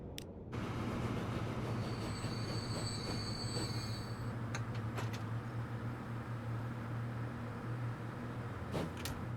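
A train in the Transport Fever 2 game rolls along with a steady low rumble, high wheel squeals early on and a few sharp metallic clicks, continuous and moderately quiet.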